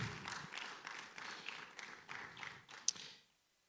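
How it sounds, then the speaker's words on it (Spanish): Church congregation clapping for a few seconds in a short burst of applause that fades quickly to near silence, with no talking. "Dale un aplauso al Señor."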